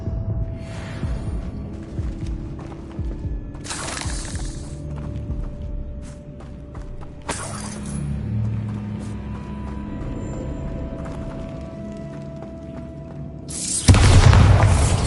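A Bombarda explosion spell cast in the video game Hogwarts Legacy: several broad booming blasts spread across the stretch, with the loudest, deep explosion near the end over a steady game hum.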